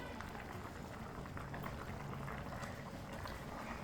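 Water boils in a pot for matar pulao, a steady, quiet bubbling and simmering hiss that carries on evenly throughout.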